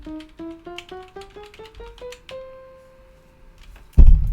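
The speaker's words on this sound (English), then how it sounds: "oh, I just hit the mic." A microphone struck by accident gives one loud, dull thump right after a run of rising synth notes played as a chromatic scale in Logic Pro X.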